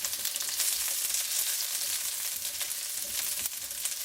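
Onions fry in a pan for a healthy Filipino adobo with ginger already added, a dense continuous sizzle broken by a few sharp stirring scrapes, close and steady.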